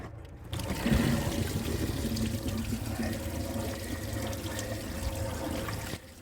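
Rusty coolant water pours steadily out of the disconnected bottom hose of a 417,000-mile Renault 19, a continuous close-up gush and trickle lasting several seconds before it stops abruptly.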